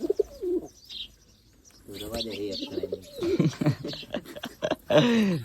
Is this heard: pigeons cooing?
yes